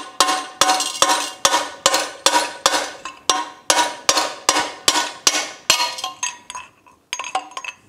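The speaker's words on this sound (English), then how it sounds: "we're just gonna use a piece of 3/4 inch conduit and then drive it through" A length of 3/4 inch conduit being hammered through a Yamaha F225 outboard lower unit during disassembly, giving about fifteen sharp, ringing metallic strikes in a fast, steady rhythm, loud and close, with a brief pause near the end and no talking.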